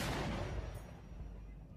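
A heavy 120mm M1943 mortar fires one loud, booming blast at the start, and the roar fades away over the next second and a half.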